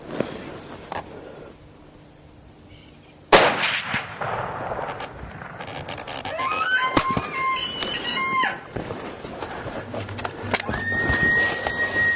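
A muzzleloader rifle fires at a big bull elk in the hunting woods, producing one sudden loud close blast that rings out over the quieter outdoor background, followed by rustling movement and distant animal calls.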